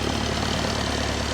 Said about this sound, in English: And as you can hear, the engine's quite nice.